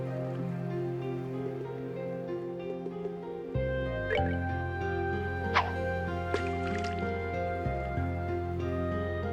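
Brief watery drips and splashes from sea fishing in the video game Trails in the Sky SC, three or four short plops between about four and seven seconds, sitting over steady, looping in-game music with no talking.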